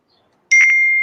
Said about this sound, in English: somebody has their phone notifications on. It's really loud.